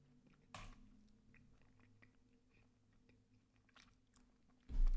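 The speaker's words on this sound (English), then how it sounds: "Let me eat." Someone eating, with faint, close, irregular crunchy chewing bites repeating under a low background hum and no talk.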